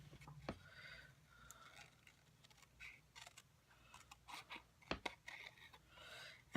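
Scissors snip through paper in a series of short, quiet cuts with small pauses, fussy cutting a stamped paper image for a handmade card, close and alone with no talk.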